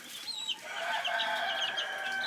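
Chickens and young chicks in a backyard flock of hens with a rooster, clucking and peeping continuously at moderate level, with overlapping high chirps and no talking.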